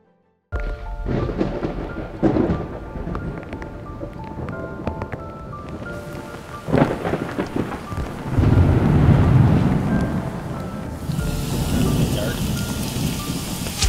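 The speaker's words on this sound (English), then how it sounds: "This storm rolled in." A thunderstorm rolls in over a black bear hunting spot in Saskatchewan, with heavy rain and deep thunder rumbles building and swelling, plus wind buffeting the microphone, loud and close.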